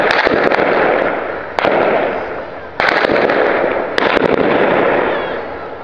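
Random gunfire in a town in Al-Atarib near Aleppo, sharp cracking shots scattered over a loud, continuous roar of noise, with several distinct bursts standing out along the way.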